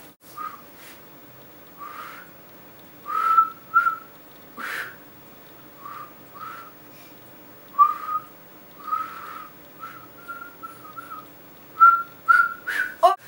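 Short, breathy whistled notes come in uneven bursts with pauses between, some thin and wavering as if the whistler struggles to hold a tone; close and fairly clear.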